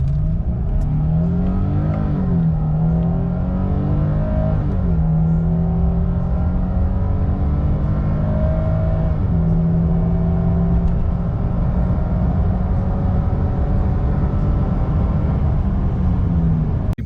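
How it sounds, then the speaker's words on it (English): A 2023 Nissan Frontier pickup truck accelerating hard from 0 to 60 mph, engine heard from inside the cabin, revving up through several gear shifts with pitch climbing and dropping, loud and continuous. "All right, we'll do a quick 0 to 60."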